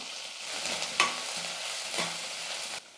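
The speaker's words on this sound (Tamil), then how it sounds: "கொஞ்சமாக கொத்தமல்லி சேர்த்து கொஞ்ச நேரம் வதக்கிக்கலாம்" Coriander being sautéed in leftover oil in a kadai, a steady close sizzle with a couple of sharp stirring scrapes of the spoon against the pan, no voices.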